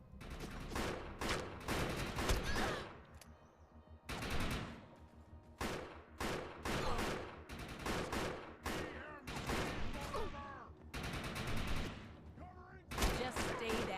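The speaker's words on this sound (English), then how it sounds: "So much better with the pistol." Pistol gunfire in the shooter game Defiance, sharp shots fired in rapid clusters with short pauses between bursts, close and loud, with a few brief gaps of quiet.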